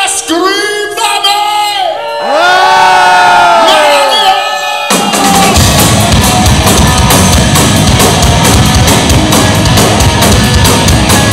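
A heavy metal concert crowd at a show at Druso in Bergamo, Italy, screams and whoops in sustained rising shouts, then breaks into loud, dense cheering and applause that fills the venue.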